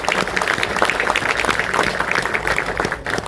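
A crowd at a book release claps to welcome guests, giving dense, steady applause that fills the room throughout.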